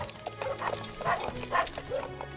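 Several dogs bark in short, repeated bursts near ice in a snowy setting, a mix of barks and yips at moderate distance with some voices in the background.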